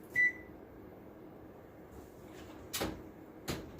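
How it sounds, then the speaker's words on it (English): A kitchen oven being set to preheat to 400 degrees, with a short electronic beep from the control panel followed by two soft knocks of the oven door or panel against a quiet room hum. "I'm going to preheat the oven now."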